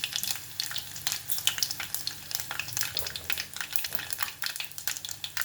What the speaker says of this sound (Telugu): ఆవాలు, జీలకర్ర, ఎండుమిర్చి వేస్తున్నాను